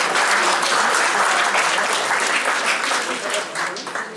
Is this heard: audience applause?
yes